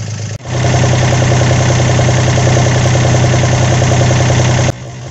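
A Volvo Penta sailboat engine idles in neutral, a loud, steady mechanical drone with even throbbing pulses, close and continuous after a brief start.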